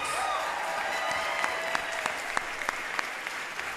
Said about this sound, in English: please give a huge round of applause to the class of 2026